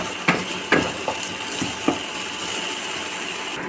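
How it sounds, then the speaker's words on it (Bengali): Potatoes fry in a pan for vegetarian chowmein, giving a steady broadband sizzle with a few sharp clicks and scrapes of stirring near the start, close and moderately loud, with no talking. "আলুগুলো আমি ভেজে নিই ভালো করে"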